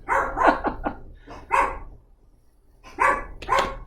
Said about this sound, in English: I have no idea why my dogs are barking.